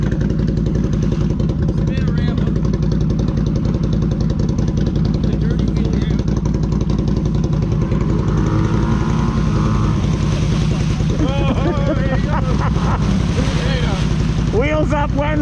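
An ATV engine revs continuously on a muddy trail, a loud, close, rough drone rising and falling in pitch, with people talking over it and wind buffeting the microphone.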